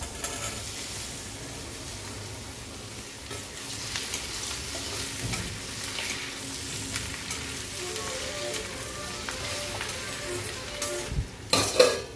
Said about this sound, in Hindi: तो अभी सब्जी वगैरह छौंक दी